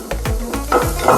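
Shallots fry in a hot pan with a close, bright sizzle while a spoon stirs them in a few scraping strokes.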